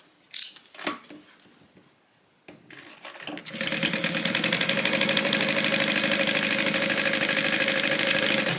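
Sewing machine stitching the sides of a tote bag with a 3/8 inch seam allowance: a few scattered handling clicks and knocks, then a loud, continuous rapid mechanical whir that runs steadily to the end.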